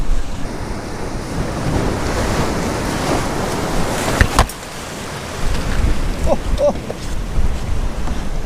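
Ocean waves surge and break on a rocky shore at Elgol before dawn, a continuous loud wash of surf mixed with wind buffeting the microphone, with a brief lull in the middle before the water rushes in again.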